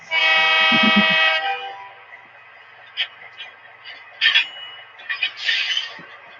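A model train sounds a sustained electronic horn blast, loud and close for over a second, followed by quieter scattered clicks and chirps from the layout.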